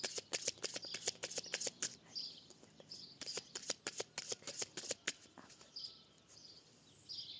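Tarot cards cut and shuffled in a rapid series of crisp flicks and slaps, close and fairly loud, with faint bird chirps in the background.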